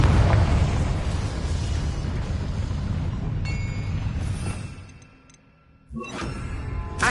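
Explosive Bombarda and Confringo spells blast in the video game Hogwarts Legacy, a dense, loud roar of booming bursts that rumbles on, eases into a brief lull, then erupts again with a fresh sharp burst near the end.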